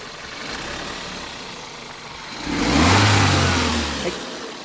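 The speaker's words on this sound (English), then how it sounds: "He's gonna rev it a bit, just a tiny bit, because it is very late at the night." A 2009 Volkswagen Golf MK6 with a turbo engine and DSG gearbox idles, then gets a single short, moderate rev that swells and falls back to idle, heard up close at night with no talking.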